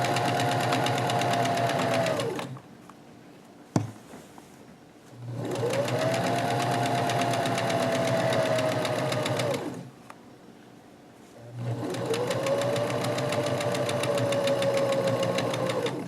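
A domestic sewing machine stitches pajama pant fabric in three long, steady runs of whirring needle clatter, broken by short quiet pauses.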